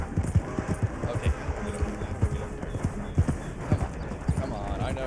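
Horse hooves clip-clop in a video game, a rapid, uneven run of close hoof strikes under a voice speaking.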